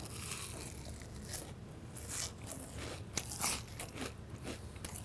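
Close, quiet crunching bites into crispy fried flatfish, Jeju olive flounder, with a series of crackly bites and chewing spread over several seconds and no talking.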